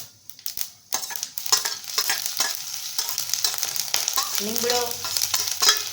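White sesame seeds and green chillies hit hot oil already crackling with cumin, bursting into a loud, close sizzle with sharp spattering pops and stirring clatter, no voices.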